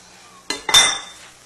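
A mussel dish stirred in a pan with a utensil, two quick scraping clinks of metal against the pan close by, the second longer and fading out.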